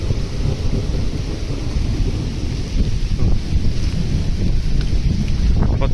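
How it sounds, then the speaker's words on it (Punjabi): Dense, roaring downpour with a constant rush of heavy rain, loud and close, mixed with rumbling wind across the microphone and no pauses. "ਹਵਾ ਵੀ ਖੜ ਗਈ ਜੀ ਮੀਂਹ ਵੀ ਤੇਜ਼ ਹੋ ਗਿਆ"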